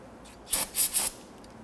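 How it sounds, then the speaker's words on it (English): Solvent sprayed onto brake parts of a 2006-2014 Honda Ridgeline rear brake hose job, heard as three quick hissing bursts close by, with no talking over them. "take a spray solvent, give it a quick spray"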